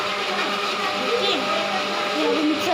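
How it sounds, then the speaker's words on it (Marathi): A mixer grinder runs with a steady, droning whir, fairly faint and continuous, with voices murmuring in the room around it. "अभी मिक्सर का बहुत आवाज़ आ रहा है"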